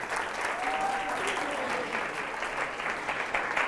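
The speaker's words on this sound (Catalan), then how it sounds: "sí que tenim un aplaudiment del públic" Brief, steady applause from a studio audience on a Catalan tongue-twister quiz show, an even wash of clapping filling the whole few seconds, with a faint voice briefly underneath.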